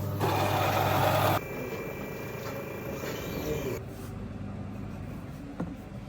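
Coffee vending machine brewing a latte, a loud mechanical whir and grinding hum for over a second, then a steadier, quieter motor drone with a faint high whine and a small click near the end.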